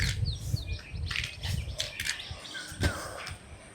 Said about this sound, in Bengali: এখানে প্রচুর পাখি থাকে আর সকালবেলা এত সুন্দর ডাকে